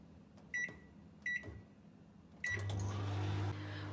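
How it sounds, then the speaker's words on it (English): A few short beeps from keypad presses, then a microwave starts with a steady low hum, close by and fairly quiet, in a home kitchen. "Whilst that's heating up in the microwave"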